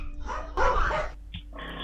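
A dog barks during an earthquake in China, giving a couple of sharp, close barks and yips in under two seconds, with no voices.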